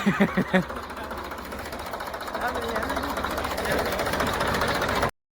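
A tractor engine runs steadily nearby with a rapid rhythmic chugging knock, a few louder thumps at the start, and people talking over it throughout.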